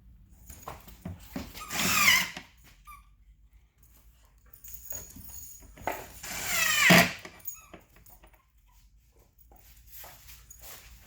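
Screws being driven to mount a wall cabinet bracket: two short, loud, whirring bursts about five seconds apart, close by, with quiet handling noise between them.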